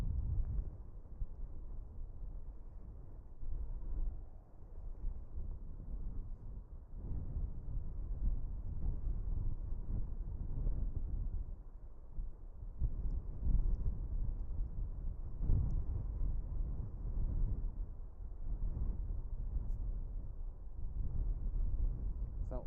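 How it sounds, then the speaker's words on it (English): Gusty southwest wind howls and buffets outdoors at Dublin Airport, a continuous low rumbling roar that swells and eases with the gusts. "But the wind has really picked up now, it's howling."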